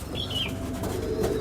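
A male Kaldum pigeon beats its wings in flight with a quick flurry of soft fluttering flaps, close by and alone, with a faint chirp near the start.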